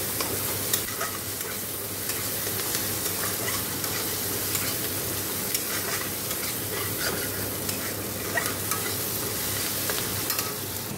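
Onion, tomato, chilli and garlic frying hard in a pan with nigella seeds, dried red chilli, salt and turmeric, a loud continuous sizzle with scraping stirs and crackles, close up and without talk.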